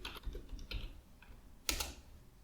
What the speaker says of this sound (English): And here let's type Stellar Repair for MS SQL.